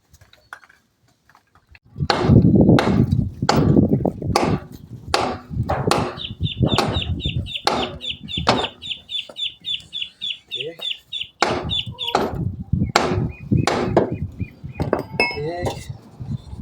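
A series of sharp metallic hammer blows strike a stuck car wheel at an uneven pace, close and loud, with a steady high ringing tone running through the middle.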